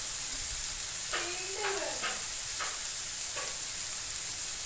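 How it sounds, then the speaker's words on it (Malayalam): Chicken and potatoes fry in a turmeric masala with a steady, close hiss and sizzle, broken by a few brief stirring scrapes. "എന്നിട്ടാണ് അത് വാടി വരുമ്പോഴാണ് നമ്മൾ അതിലേക്ക് ചിക്കനും ഉരുളൻകിഴങ്ങൊക്കെ ഇട്ട് കൊടുക്കുന്നത്."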